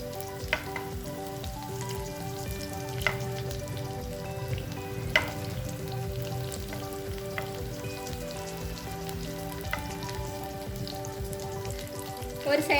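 Prawns frying in a pan for a Tamil-style prawn fry, a steady close sizzle with faint crackles and a few sharp clicks of utensils.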